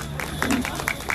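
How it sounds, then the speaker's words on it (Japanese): An audience at the Oin Suzuka thanksgiving festival applauds a short comedy skit, a brief patter of scattered hand claps heard at moderate distance. "OK! 拍手"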